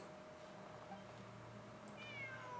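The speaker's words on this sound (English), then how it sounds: "It really is a cat." A cat meows in Genshin Impact against soft background game music, a faint rising cry appearing late and fairly quiet, with no talking.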